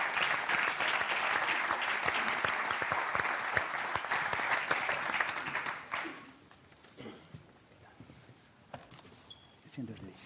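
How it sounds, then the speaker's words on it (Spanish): An audience at a club-history event gives a loud, dense ovation for a guest, the grandson of a former player and the club's secretary. It holds steady for about six seconds, then breaks off into scattered claps and quiet room noise. "Otro aplauso para Salvador Fojón."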